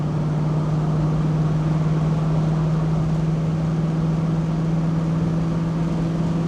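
From inside a 1967 Mustang Fastback 390 GT running in third gear, the engine gives a steady, loud, even drone with a low humming tone and no change in pitch. There is no talk.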